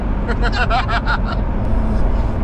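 A modified Mini car drives along the road, its engine and road noise a steady loud drone inside the cabin, with people talking over it.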